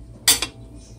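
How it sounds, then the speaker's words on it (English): A knife is picked up in a kitchen while cooking turkey bacon, giving a quick bright metallic clatter of cutlery with two close clinks, brief and near. "And I'm just getting me a knife."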